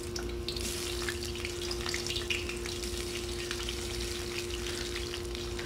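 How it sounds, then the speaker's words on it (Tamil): Sliced onions go into hot oil in a kadai and fry with a steady, crackling sizzle throughout, close and even, with a faint constant hum underneath. "எண்ணெய் நல்லா சூடேறினோன்னு பட்டுன்னு இருக்கிற வெங்காயத்தை அதில் போட்டுருவோம்"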